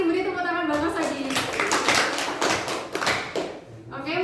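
A classroom audience claps for a presenter during a dance-lesson teaching session, dense clapping and tapping running steadily throughout with a voice speaking briefly at the start and end.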